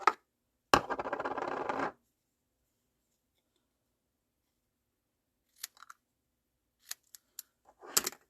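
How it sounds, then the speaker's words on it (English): A short burst of scissors cutting through paper for a card, followed by silence and then a few scattered light snips and taps. "Okay, and then I'm going to grab those scissors."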